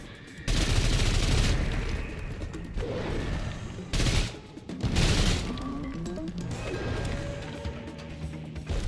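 Game gunfire in SULFUR: dense, loud bursts of shots and impacts running almost continuously, with brief pauses and a few sharper crashes.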